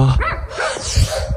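A dog barks loudly and close, a few quick rough barks in succession.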